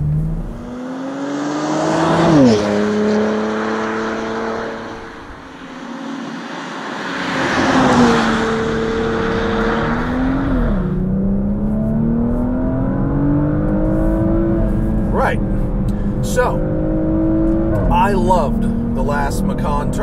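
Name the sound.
SUV engine accelerating, sport exhaust open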